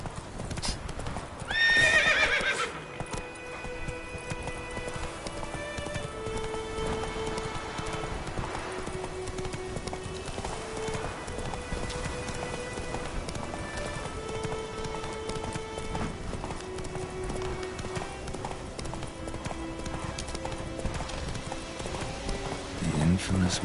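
Hooves of Roach, a horse in The Witcher 3, clip-clop steadily through a gallop, with a sharp whinny near the start; musical tones and game ambience run underneath.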